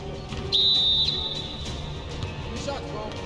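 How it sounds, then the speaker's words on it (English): A referee's whistle shrills once in a 2v2 basketball game, a sharp, loud blast lasting about half a second, with people talking around it. "blowing the whistle just because he got the whistle"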